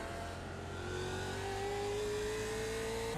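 A race car on the Zolder circuit in the iRacing video game, its engine revving and accelerating with a steady, rising pitch, loud and continuous with no voices over it.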